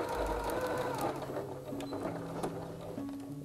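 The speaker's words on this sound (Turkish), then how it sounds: "Şimdi çizdiğim bu damarlardan makinede tekrar dikiş, düz dikiş geçeceğim." A sewing machine runs a straight stitch through patchwork, sewing leaf veins on a vase-pattern panel. The motor whirs steadily and close by, with a rapid mechanical ticking throughout.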